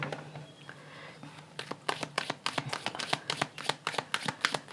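Tarot cards being shuffled during a late-night reading, a rapid run of crisp riffling snaps and flutters that start softly and build into a dense, close burst of card slaps with no talk.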